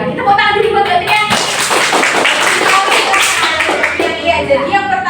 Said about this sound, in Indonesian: Tepuk tangan dulu buat Mbak Triani.